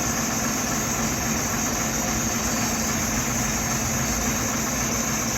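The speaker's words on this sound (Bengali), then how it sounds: "ইঞ্জিন স্টার্ট হয়ে গিয়েছে" A vehicle engine runs at a steady idle just after engine head work, a constant broadband rumble with a low hum, close and continuous, with no talking.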